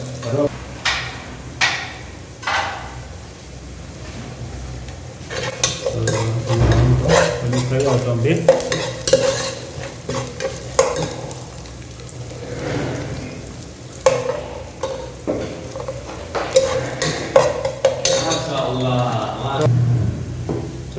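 Curry leaves sizzle and crackle in hot oil in a pan for a village-style fish head curry, with stirring and clattering cookware throughout; a person speaks over the frying.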